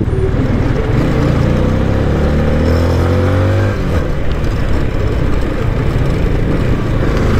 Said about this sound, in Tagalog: kahit pataas, kayang-kaya ng motor natin overtake eh